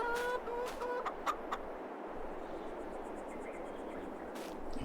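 Chickens on a German-style farm in Farming Simulator 22 cluck a few times near the start over a steady bed of ambient game noise, then the birds fall quiet under the continuous background hiss.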